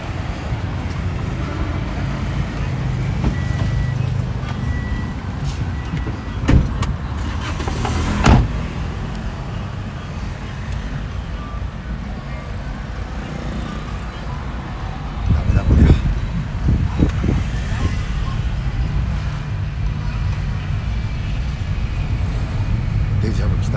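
A vehicle on a road in Vietnam is driven at full throttle, giving a steady engine and road roar with wind. Occasional knocks and bumps cut through, and voices speak over it now and then.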